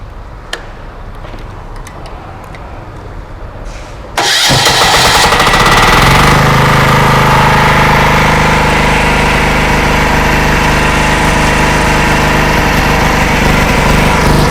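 A 5 kW diesel generator cranks and fires up about four seconds in, then runs at a loud, steady roar close by, with quiet clicks beforehand.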